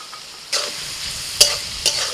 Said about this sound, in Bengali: সবজির মধ্যে একটু লবণ দিয়ে ভালো করে ভেজে নেব সবজিটা।